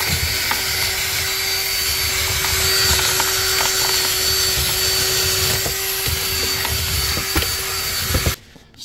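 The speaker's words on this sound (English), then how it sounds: "get in between these slats with the drill." A steady, loud mechanical whir of a power drill running continuously up close between the slats of a worm composting tray, with faint clicks, cutting off abruptly near the end.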